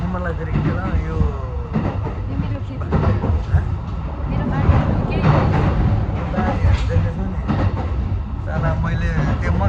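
Train ride in Japan, with the rumble and rattle of the carriage running steadily throughout while a person talks over it close by.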